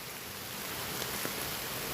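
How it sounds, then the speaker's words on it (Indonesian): Heavy rain hisses as a steady, dense wash of noise at moderate level, with no voices over it. "Lebat sekali hujannya."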